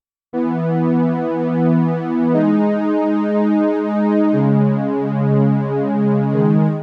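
Sustained synth chords ring out loud and steady, shifting to new harmonies twice across the passage, with no voices.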